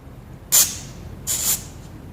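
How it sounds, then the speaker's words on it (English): Two short, sharp hissing sprays of cleaner from an aerosol can into an Estate by Murray 8/27 dual-stage snow blower, about a second apart, close and loud over a faint background. "Maybe one more spritz down here."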